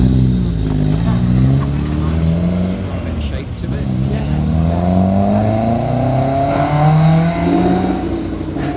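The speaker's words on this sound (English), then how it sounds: "You can tell it's got a VTEC engine in it." A Honda VTEC four-cylinder engine in a resto-modded classic car at a breakfast car meet revs up through several rising sweeps, loud and close, with voices talking over it.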